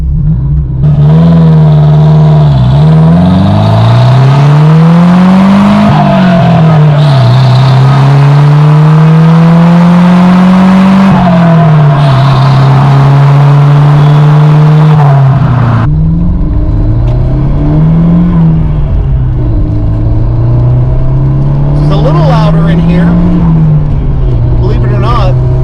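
Porsche 924 Turbo engine with a new muffler revving hard at full throttle, a loud, close, sustained exhaust roar that climbs and dips repeatedly, with a brief drop before rising again near the end.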